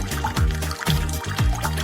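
Juice trickling from a special tap into a cup in a kitchen, a thin, continuous pour with slight gurgles, close up and moderately loud.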